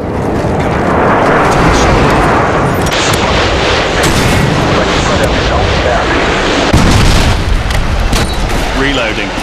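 Harrier airstrike in a Modern Warfare 2 team deathmatch on the Salvage map: loud, rapid, continuous booming blasts and gunfire close by for the whole stretch, with a heavier burst near the end and brief voices mixed in.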